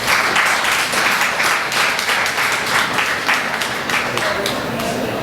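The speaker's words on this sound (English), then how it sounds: "They give him an applause" An audience at a Nigeria Independence Day celebration claps loudly and steadily throughout, a dense burst of applause with voices mixed into the crowd noise.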